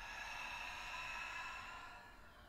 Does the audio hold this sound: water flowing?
no